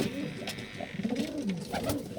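Several homing pigeons coo softly in repeated, overlapping throaty calls, with some rustling and faint background noise.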